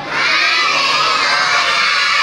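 A crowd of children shouts together at a church mission event in the Philippines, one loud sustained burst of massed voices close by.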